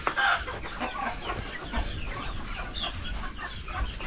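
Chickens clucking nearby on a farm, a steady mix of soft murmuring clucks and a sharper call at the start, continuous and close.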